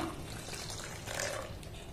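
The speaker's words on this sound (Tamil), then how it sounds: "நான் ஒரு அரை கப்பு தண்ணி இதில் இப்ப சேர்த்து கொடுக்குறேன்." Hot water is poured into semiya payasam cooking in a pot, a short, continuous liquid pour that splashes and fills at close range for about two seconds.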